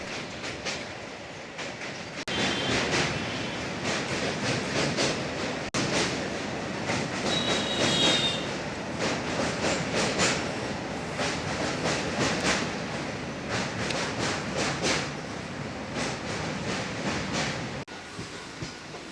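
A Sealdah to Dankuni local train rolls steadily along the rails, carrying a dense continuous rumble with rhythmic wheel clatter over the joints and a faint squeal midway, heard from on board.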